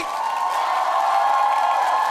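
Large audience applauding performers on stage at a televised Vietnamese singing competition final, a steady dense wash of clapping with some cheering that holds at an even level for the whole stretch.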